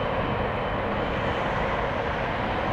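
Steady, broad engine roar of a large Boeing airliner at Toronto Pearson airport, a continuous loud wash of jet noise at constant level with no voices.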